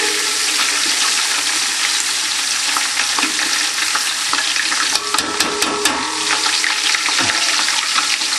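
Loud, steady frying sizzle of garlic and ginger for a base curry gravy fills the clip, with occasional scraping and clicks as food is stirred in the pan.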